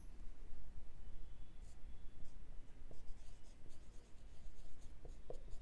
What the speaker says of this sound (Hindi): यहाँ पे इंटरेस्ट लिख देते हैं बच्चों